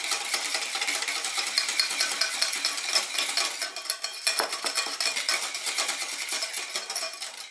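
A whisk or utensil scraping and clinking in a bowl as baking powder is mixed into dry ingredients for apple fritter batter, continuous close rapid scratchy stirring with light metallic ticks, no voices.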